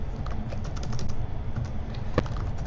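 Steady typing of code on a computer keyboard, a dense run of light clicking keystrokes with a few sharper taps, close and fairly loud with no voice over it.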